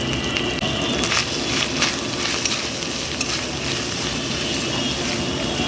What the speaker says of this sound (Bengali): সামান্য জল দিয়ে দিচ্ছি।